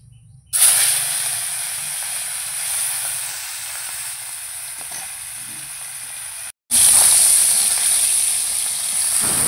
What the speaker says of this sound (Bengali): এবার ভেজে নেব চিংড়ি মাছ।